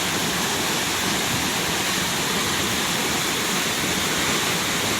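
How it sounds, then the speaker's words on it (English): Madhubandha waterfall in Daringbadi, Odisha, swollen by the monsoon, roars in a loud, constant wash of rushing water, close and unbroken, with no voices over it. "Madhubandha waterfall."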